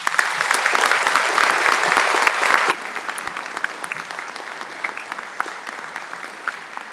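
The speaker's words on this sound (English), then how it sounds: "Please join me in welcoming to the podium our graduate commencement speaker, Marcy Mills." Audience applause at a university graduation ceremony welcoming the commencement speaker, a dense loud burst of clapping that abruptly thins after a few seconds into scattered lighter claps.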